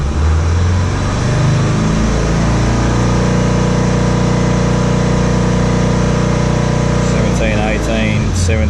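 A Subaru Forester 2.0L turbo diesel with a flashing DPF warning revs up from idle, its engine note rising in a steady loud drone that holds for several seconds before easing back down near the end.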